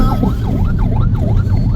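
A wailing ambulance siren sweeps up and down in a steady repeating cycle, loud and close behind a moving vehicle, with road rumble underneath.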